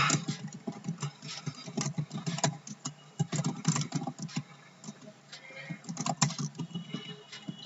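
A company name is typed on a computer keyboard in Tally Prime accounting software, rapid irregular clicking keystrokes heard close up in uneven bursts.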